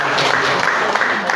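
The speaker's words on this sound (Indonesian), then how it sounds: "kita berikan aplaus dulu untuk" A crowd at an indoor vendor product presentation session claps steadily throughout, a dense even applause filling the room.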